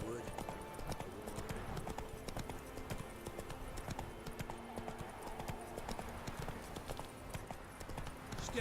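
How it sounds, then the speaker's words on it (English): Horse hooves clip-clop steadily in The Witcher 3: Wild Hunt, a close, even rhythm of hoofbeats running the whole time beneath game voices and background sound. "Whoa there, Roach"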